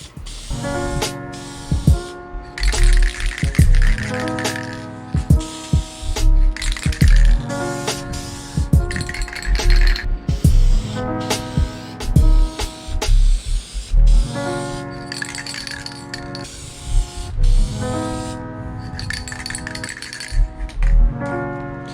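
A spray paint can hisses in repeated short bursts while a BMX frame is coated, the sprays coming in an uneven rhythm over steady background music.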